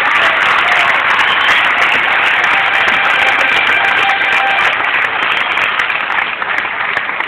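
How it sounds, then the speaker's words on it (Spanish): Applause from an audience at a technical institute's school ceremony, loud steady clapping throughout that thins slightly near the end. "Más fuerte el aplauso de nuestro talento Iki."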